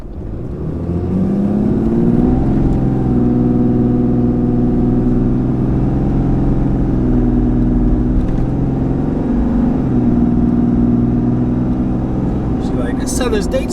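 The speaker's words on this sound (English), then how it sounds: "the next clip I'm going to show you guys is of the truck doing a launch from zero" A RAM 3500 pickup with a Cummins diesel pulls away from a standstill, its engine droning loud and close with a steady rising tone that holds and shifts through the run, no voices over it.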